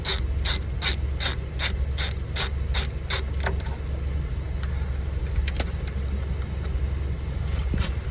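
Rapid ratchet clicks loosening the top bolt of a rear brake caliper on a 2010 Hyundai Santa Fe, a steady burst of close clicks that stops partway, followed by scattered metallic handling sounds.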